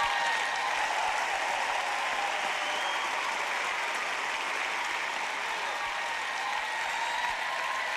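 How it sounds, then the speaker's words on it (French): A congregation at a church service applauds in steady, dense clapping that holds at an even level throughout, moderately distant with no voices standing out. "Allez, acclamez notre Dieu Saint ce soir."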